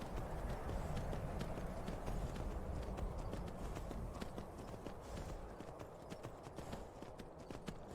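Steady clip-clop of horse hooves trotting along in The Elder Scrolls V: Skyrim, a continuous even rhythm at moderate distance, alone without talk.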